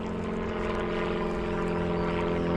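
A plane flying over a canal, its broad engine drone steady and continuous throughout, droning at constant loudness with no talk.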